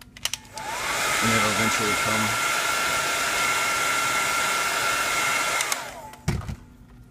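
A heat gun blows hot air onto the adhesive behind a Samsung Galaxy S5 screen, a loud steady fan roar running about five seconds and then switching off, with someone speaking briefly over it.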